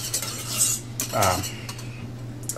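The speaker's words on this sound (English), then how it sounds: "Continue to whisk" A whisk scrapes and clinks through a cream sauce in a heavy-bottomed pan, giving a few quick metallic strokes and swishes close up, with no voices.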